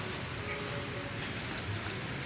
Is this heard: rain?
yes